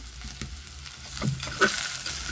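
Soya pieces and bitter gourd frying with chopped onion and curry leaves in a pan, a moderate crackling sizzle with a few stirring scrapes, close and steady with no talk.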